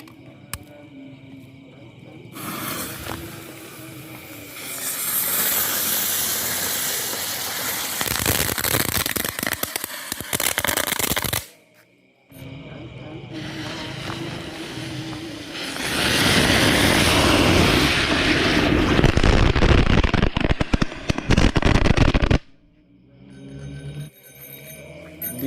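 Six spinning firecrackers (gangsing petasan) set off together inside a bucket, heard close and loud. Two long roaring, hissing bursts with whistling whirr and crackle are split by a brief lull, and both cut off sharply.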